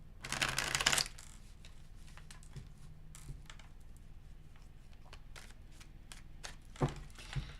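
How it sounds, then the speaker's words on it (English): A deck of slightly sticky tarot cards is riffled in a quick burst, followed by scattered soft taps and flicks of the deck being handled. "I have to shuffle extra because they're kind of sticking together."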